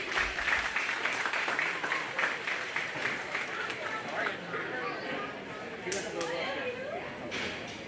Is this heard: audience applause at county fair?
yes